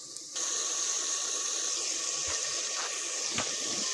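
Water pours into a cooking masala of salt, chili, spices and turmeric in a pan, a steady splashing hiss that starts abruptly and runs on, with a few soft clinks near the end.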